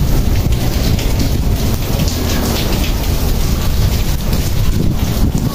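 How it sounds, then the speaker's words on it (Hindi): Heavy rain pours steadily with gusty wind buffeting the microphone, a constant loud roar throughout. "तूफानी हवा के साथ बारिश होती है"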